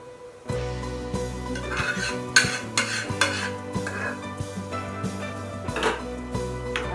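Spices crackle and sizzle softly in hot oil for tomato dal tempering while a spoon stirs and clinks against the pan, over quiet background music.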